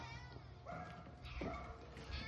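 A small cat at an animal rescue meows a few times in short, faint, rising cries against a noisy background.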